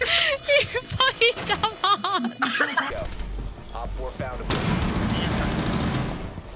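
Video game gunfire rings out in quick bursts and a rapid fusillade, loud and close, mixed with excited players talking and shouting over it.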